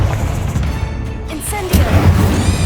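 A Confringo spell blast in Hogwarts Legacy lands with a heavy booming impact and crackling burst, loud and close amid the ongoing rumble of combat.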